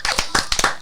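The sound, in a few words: people clapping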